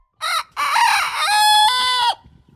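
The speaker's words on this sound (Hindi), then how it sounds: "ये है अपना कड़कनाथ चिकन।" A black Kadaknath rooster crows loudly and close by, a short call followed by one long drawn-out crow, with no talking.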